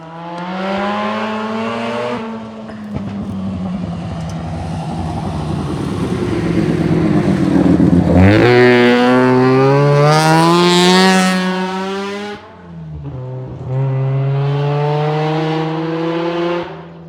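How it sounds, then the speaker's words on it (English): A 1977 Dodge Colt rally car with a Mazda rotary engine howls past on a rally stage, a loud buzzing engine note rising through the gears, dipping on a shift, then revving high again up close. "1977 Dodge Colt with a Mazda rotary engine shoved in there"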